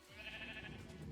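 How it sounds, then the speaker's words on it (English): A single sheep in Minecraft gives one short, nasal bleat, faint and close. "God, this one sheep doesn't want to eat."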